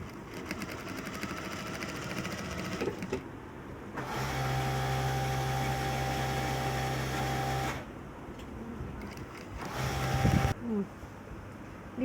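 A sewing machine runs in a steady, close whirring stretch as it stitches the pieces of a churidar, with lining set behind the design side. Shorter bursts of motor hum come before and after, with no talking.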